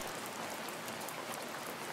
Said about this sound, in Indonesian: Aduh, mulai hujan.